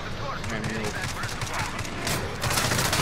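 Rapid gunfire and explosions from the video game Call of Duty: Modern Warfare, a dense continuous barrage under players talking over each other.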